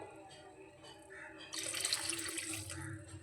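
Water pours into a cooking pot of cauliflower and fish-roe gravy, a soft splashing stream that begins partway through and continues steadily to the end.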